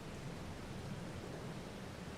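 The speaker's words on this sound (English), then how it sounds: "No, because it's raining." Steady, even rain in a farming video game, a soft continuous hiss with a low rumble underneath, quiet and unbroken throughout with no voices.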